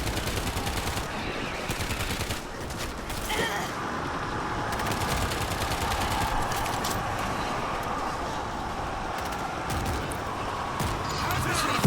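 Continuous gunfire and explosive blasts from grenades thrown into a zombie horde in the video game World War Z, a dense, steady barrage of rapid shots with heavier booms mixed in, loud throughout the clip.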